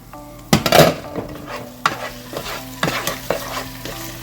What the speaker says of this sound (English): Then you could give it a stir if you want to